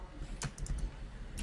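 Router OSPF commands being typed on a computer keyboard, a few brief close key taps over a low background rumble, with no voice.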